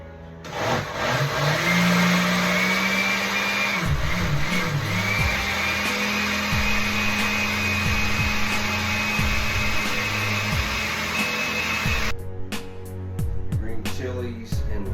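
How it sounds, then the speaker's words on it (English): A blender whirs through green chilies and ranch, a loud steady motor drone that shifts pitch as it works and then cuts off near the end, followed by a few clicks and clatters. "Green chilies and ranch all blended up."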